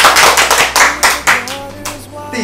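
Wedding guests clap together in several short bursts, loud and close, the applause fading as a musical tone rises beneath it.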